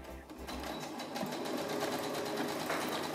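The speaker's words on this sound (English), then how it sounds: "sew along the short edge with a half inch seam" A sewing machine stitches a half-inch seam along the short edge of a gathered summer skirt, its steady rapid needle whir running continuously and close by with no talk.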